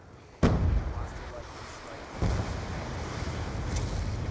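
A gun emplacement fires in the video game Black Ops 2, two heavy booming blasts a couple of seconds apart, each trailing into a dense rumbling wash.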